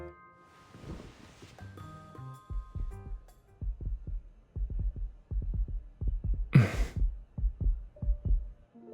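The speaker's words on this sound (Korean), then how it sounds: "우리의 심장 박동이 겹치면 두 개의 선이 같은 색깔로 변할 거야." Heartbeat sound effect from a video game wedding event story: a steady series of soft, low double thumps pulsing at a regular rhythm, with a brief swoosh and faint chime tones around it.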